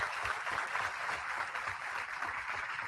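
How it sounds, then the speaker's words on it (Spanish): Steady audience applause for colleagues of an organizing commission at a children's and adolescents' rights forum, a dense, continuous wash of many hands clapping without pause, fairly even in loudness throughout. "Solicito un aplauso para todos los colegas de la comisión que se involucraron"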